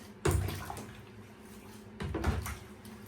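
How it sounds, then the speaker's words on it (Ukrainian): Hot tap water running into a bathtub in a home bathroom, two separate gushing bursts of pouring water about two seconds apart, with a steady hiss between them and no voices. "Все одно доб'ю ще води, просто обичної гарячої."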